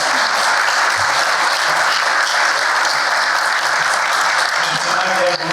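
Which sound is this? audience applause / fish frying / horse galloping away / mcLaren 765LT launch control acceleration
audience applause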